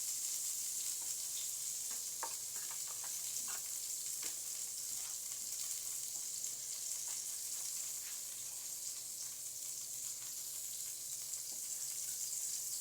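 Bread fries in a pan with a steady, bright sizzle, broken by small clicks and stirring taps, heard up close with no talk.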